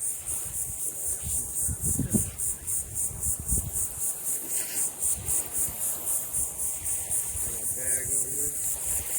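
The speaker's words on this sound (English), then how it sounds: "And they call those cicadas. They look like giant flies." Cicadas buzz steadily in the trees on a coastal nature walk at Fort Morgan near Gulf Shores, Alabama, a constant high shrill drone running the whole time, with faint footsteps and rustling nearby below it.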